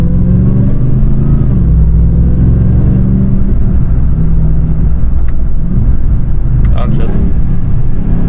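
Dodge Demon 170 engine blipping on a downshift, a loud, close rumbling burst of revs over low drone, with someone talking over the sound at a busy car wash.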